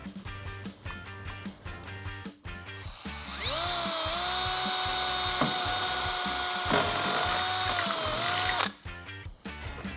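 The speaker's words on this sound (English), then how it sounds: "Drill a hole there." A power drill with a drill bit boring a screw hole near the bottom of a 2014-2018 Silverado 1500 for an OEM style fender flare, a steady loud whine lasting several seconds between bursts of clattering handling noise.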